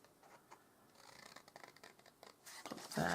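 Scissors snipping a craft project lid, a string of faint, close crisp cuts and scratchy snips that grow busier and louder toward the end, with no speech.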